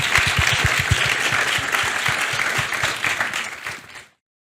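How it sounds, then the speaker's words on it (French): Audience applause at a round-table talk on burnout, a dense steady clapping from a crowd that fades out cleanly after about four seconds. "On peut l'applaudir."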